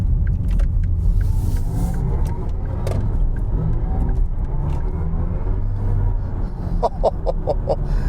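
Steady engine-like drone with low rumble from a BMW iX3 electric car moving close by, its synthetic driving sound a hum that rises briefly with a few sharp ticks near the end.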